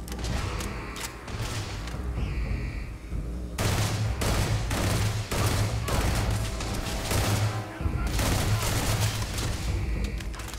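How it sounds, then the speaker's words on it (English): Bursts of gunfire aimed at the player in the sci-fi video game Starfield, rapid volleys of shots cracking in close succession with brief pauses between them, layered with mechanical clanks and game effects, while a player's voice occasionally talks over the action. "Somebody over here shooting at me?"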